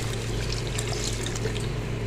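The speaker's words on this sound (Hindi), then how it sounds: "अब हम इसमें डाल देंगे पानी" Water poured into a pot of simmering shorba-style curry gravy, a steady, close, continuous splashing pour with no voices.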